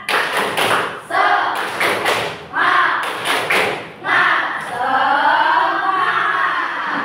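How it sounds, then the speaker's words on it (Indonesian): A classroom of pupils doing the tepuk semangat spirit clap, loud bursts of rhythmic group clapping and thumping in quick patterned sets, with children's voices shouting along between and during the claps. "kita tepuk semangat"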